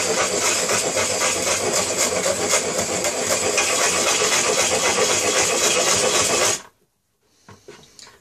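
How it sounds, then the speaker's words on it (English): A knife's edge being sharpened on a motorized sharpener, a loud steady grinding whir running continuously for about six and a half seconds before cutting off abruptly, followed by faint handling clicks. "this knife here has also a sharp edge on this end here, so we're going to go ahead and sharpen that too"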